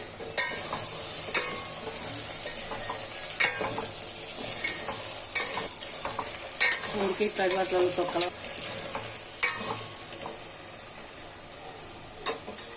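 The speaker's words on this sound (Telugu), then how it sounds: "మనం ఉడకపెట్టి పక్కన పెట్టుకున్న పెట్టుకున్న ఆలుగడ్డ ముక్కల్ని వేసేసుకుందామండి అంతా ఒకసారి కలుపుకోవాలి" A spoon scrapes and taps around a pan as boiled potato pieces are stirred into a spicy mint masala gravy over a soft, continuous sizzle, heard up close.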